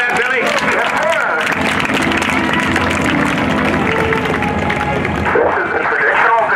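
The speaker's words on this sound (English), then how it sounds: "I want you to give him a big round of applause so he can hear you in the cockpit" Airshow crowd applauding T-6 Texan pilot Bill Leff at the 2018 NAS Oceana Airshow, a steady wash of clapping and cheering over constant broadband noise, with aircraft or announcer sounds mixed into the din.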